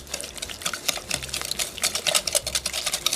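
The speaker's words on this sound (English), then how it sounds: "stir these ingredients until they're well blended" A whisk beats lemon bar filling ingredients in a bowl, a quick, steady run of light clicking and scraping strokes close up, with no voices.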